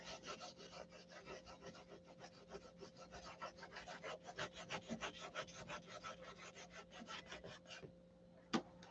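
Rhythmic scratchy strokes of sandpaper rubbed back and forth over wood, close and steady, speeding up slightly before stopping, with one sharp knock near the end.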